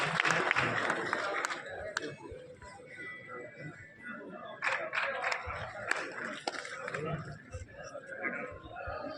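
An audience claps to welcome guests at an award ceremony in Bikaner, scattered applause and crowd chatter coming in waves, with a camera click or two.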